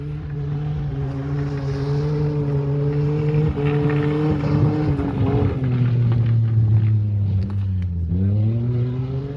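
A race car doing hot laps gives off a steady, droning engine note with a strong tonal hum. The pitch holds, drops, then climbs again as the car changes speed, with wind buffeting the microphone.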